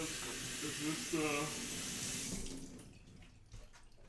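Kitchen tap water runs steadily over blueberries, blackberries and strawberries, a constant close rushing splash for about two seconds before the flow cuts off, leaving quieter rustling and faint handling.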